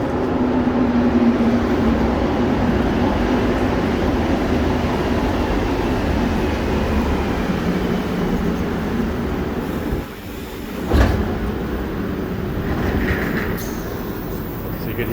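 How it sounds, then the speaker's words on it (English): A Montreal Metro train on a damaged track section, a steady loud rumble and rolling roar throughout with a brief dip and clunk partway through as it switches to manual mode. "So you can hear the train switching to manual mode"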